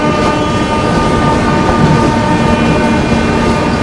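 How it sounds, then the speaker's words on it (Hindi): A Garib Rath express train pulls out of Manak Nagar station with loud, steady rolling rumble, wheels clicking over rail joints and a horn sounding up close throughout. "ट्रेन जस्ट चली है"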